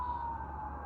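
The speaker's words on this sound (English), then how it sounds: "now we have the sirens going on" An emergency vehicle siren wails steadily and loudly through the short stretch, with a sustained tone over a low engine rumble and no voices.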